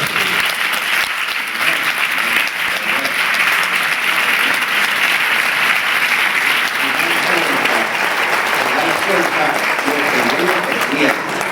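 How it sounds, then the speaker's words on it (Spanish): A theatre audience at a poetry festival's closing ceremony breaks into a sustained ovation, dense, loud applause filling the hall at an even level from start to finish. "¿Ovación?"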